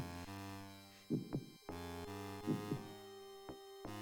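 A low, faint heartbeat throbs in the video game Beneath a Steel Sky, with paired thumps repeating over a steady electronic hum, and no voices.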